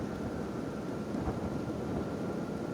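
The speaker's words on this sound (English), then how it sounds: "Lightning strikes." Steady rain with a low thunder rumble during a lightning storm in the video game Kenshi, a dense continuous wash heard alone with no voices.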